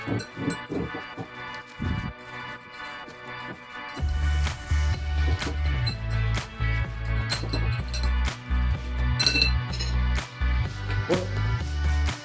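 Egg mixture being stirred vigorously in a container, with repeated close scraping and knocking strokes that turn into a steady rapid churning rhythm after a brief quieter start.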